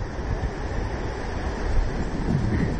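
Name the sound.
ocean surf waves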